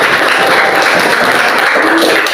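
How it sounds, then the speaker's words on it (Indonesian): A class applauding together at the end of a lesson, loud, close and continuous clapping that fills the room with an even wash of sound. "Oke, untuk tepuk tangan untuk kita semua hari ini."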